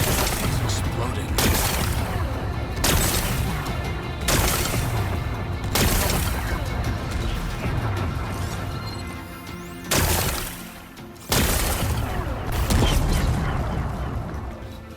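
Rocks blasted apart and exploding in the video game Horizon Forbidden West: repeated loud, broadband crashing bursts roughly every one to two seconds, with rumbling debris between them and a short gap near the end.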